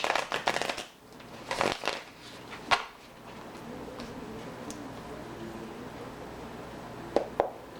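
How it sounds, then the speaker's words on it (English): Tarot cards are shuffled by hand in a few quick riffling bursts, close and fairly soft, followed by quieter rustling and an even background hiss. "I'm just going to shuffle these twice"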